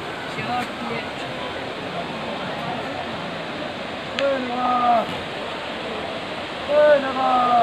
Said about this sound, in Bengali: এখানে ঝর্ণা